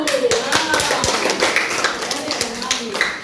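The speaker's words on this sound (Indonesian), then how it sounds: "Malik, tepuk tangan dulu." A classroom of students claps for a classmate, a burst of mixed hand claps and taps that carries on through lively chatter and speech.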